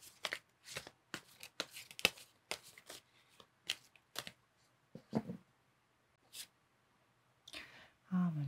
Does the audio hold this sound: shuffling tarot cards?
yes